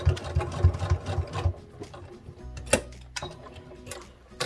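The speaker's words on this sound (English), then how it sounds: "I'm going to overlap my stitching there and back stitch" A sewing machine back-stitches over the start of a seam on a fabric bear, running in short rapid bursts with pauses and a few sharp mechanical clicks between runs.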